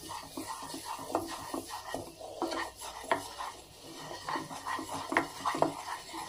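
Flour stirred into melted butter in a pan, with repeated scraping and clinking of a spoon against the pan in an uneven rhythm, fairly quiet, with a soft sizzle underneath.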